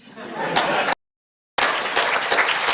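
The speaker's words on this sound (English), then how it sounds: "Clap if you enjoyed this talk." An audience clapping after a talk, a burst of applause that cuts out for a moment and then resumes as a dense crowd clapping, with voices and a laugh mixed in.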